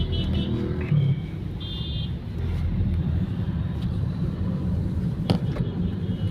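A Toyota Fielder car drives along a road, its engine a steady low rumble close by, with road noise and brief higher-pitched sounds from the surroundings.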